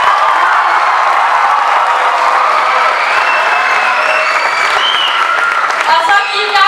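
A school-show audience at Hørsholm Skole's last-day-of-school performance claps in a dense, sustained roar of applause, with a few cheers and whoops rising near the end.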